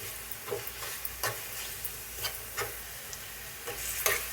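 Ghee-based sweet with roasted cashews stirred in a pan, a ladle scraping in a few irregular strokes over a soft, steady sizzle, close up and without voices.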